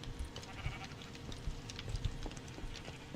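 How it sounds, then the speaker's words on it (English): Sheep bleat on an automatic sheep farm in the Minecraft video game, with a few short, close bleats scattered over soft, repeated thumping steps. "That's where the automatic sheep farms are."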